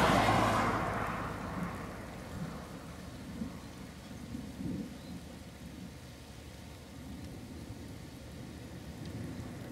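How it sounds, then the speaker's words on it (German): Steady light rain pattering on a surface, with a louder gust-like rush at the start that fades into soft continuous drizzle. "Noch hält sich der Regen in Grenzen."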